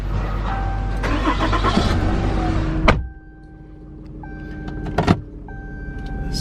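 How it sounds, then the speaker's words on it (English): A pickup truck door thumps shut and the engine runs steadily with a rising hum, another door-like clunk following as the truck gets moving at a logging site. "Let me jump in my truck here."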